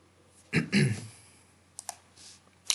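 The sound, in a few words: computer mouse clicking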